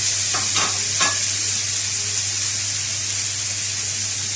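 Chopped tomatoes with a spoon of tomato paste sauté in a pan, a loud, steady hissing sizzle with a steady low hum underneath and a few stirring scrapes early on, no talk.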